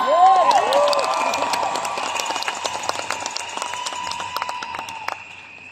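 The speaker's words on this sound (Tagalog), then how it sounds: "Isang palakpak pa." Applause and cheering from an audience at a Riway business platform event, loud at first with whoops and high whistles rising over the clapping, then tapering off steadily over several seconds.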